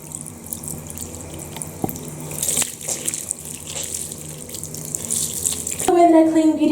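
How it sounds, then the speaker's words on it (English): Tap water runs steadily into a sink while a makeup sponge is rinsed beneath it, with soft splashing and squeezing, and the flow grows louder and fuller near the end. "So I'm just going to rinse this off now."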